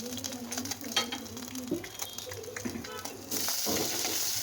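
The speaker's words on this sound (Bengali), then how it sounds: "এর ভিতরে কিন্তু আমি আবার এই যে ধনে পাতাগুলো একটু ভেজে নিব হালকা করে" Coriander leaves lightly frying in a pan for a taki fish mash, a steady low sizzle with stirring clatter and scraping, growing denser and brighter near the end.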